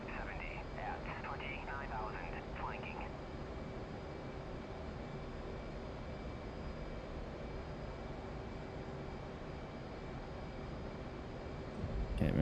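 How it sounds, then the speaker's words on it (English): A jet engine roaring with afterburner in the DCS World flight simulator, set in a Persian Gulf campaign, gives a steady, loud, continuous rumble throughout, with a voice talking briefly near the start. "Okay, we're kicking an afterburner."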